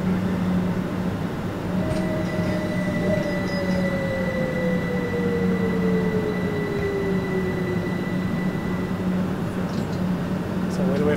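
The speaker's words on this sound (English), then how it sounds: "Train's still being washed." A BR Class 377/4 electric train moving slowly through a carriage washing plant, a steady loud rumble and hum with a long falling whine and faint squeals, a voice speaking over it.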